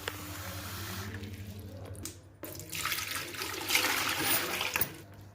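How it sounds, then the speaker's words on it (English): Water runs from a pipe disconnected from a Kangen water machine into a bucket during deep cleaning, a steady rushing stream that grows louder and brighter midway, close by with no talk. "we have collected nearly 3 liters of water in this bucket"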